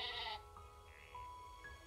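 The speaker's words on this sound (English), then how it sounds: "Shut, ya sheep." Sheep in the game Craftopia bleat a few times in quick succession, fairly close, with short nasal calls over a quiet game background.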